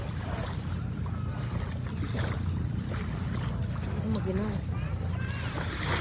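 Steady wash of high-tide waves rolling in at Camayan Beach in Subic, Zambales, a continuous close roar with a voice speaking briefly over it.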